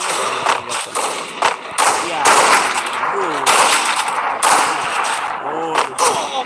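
Rapid automatic gunfire bursts and single shots in the Free Fire video game, loud and dense with thuds between, repeating over the whole stretch under faint talk.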